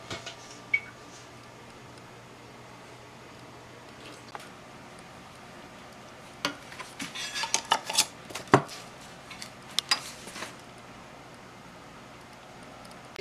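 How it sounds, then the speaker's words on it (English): Glass pickle jars clink and knock against each other and a metal canner rack as they are loaded in, a cluster of sharp, close clatters over several seconds after a quiet stretch with a few isolated taps. "Let's go ahead and start loading these in the canner."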